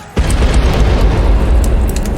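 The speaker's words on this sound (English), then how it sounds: "After a mighty explosion rocked the Bon Homme Richard, the watchers on the cliffs thought that Jon" An explosion aboard a burning wooden sailing warship bursts in suddenly as a loud, sustained rumbling boom that stays heavy and low throughout.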